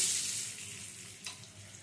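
Salt dropped into hot mustard oil sets off a hissing sizzle that starts loud and gradually settles, with a small clink near the end and no talk.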